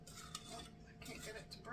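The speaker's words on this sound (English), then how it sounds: "Let me break up this butter a little bit." Butter being broken up with a utensil in a pan while making no-bake peanut butter chocolate oat cookies: soft scraping and clinking of metal against the pan, continuous and close, with faint sizzle.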